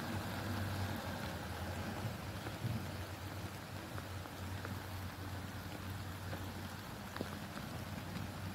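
Steady rain hisses continuously on a slippery uphill road, with scattered drops and a faint low traffic rumble underneath; no one speaks.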